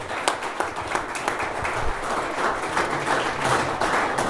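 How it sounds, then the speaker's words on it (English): Audience clapping at a security pitch event, individual claps picked out at first and then merging into a fuller, steadier round of applause, fairly close and even in level. "Thank you so much for your slow clap and patience."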